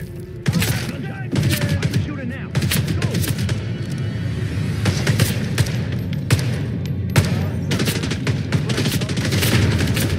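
Gunshots in the video game Hitman 3, a dense spell of loud cracking shots and thuds firing in irregular bursts over busy background commotion, with speech mixed in.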